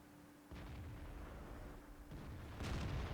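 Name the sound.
tank gun firing in World of Tanks video game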